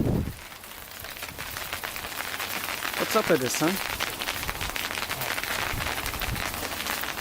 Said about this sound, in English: look outside. It's hailing.